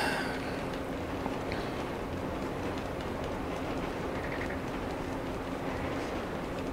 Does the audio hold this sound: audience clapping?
no